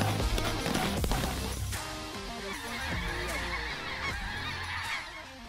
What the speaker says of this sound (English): chasing Canada geese and snow geese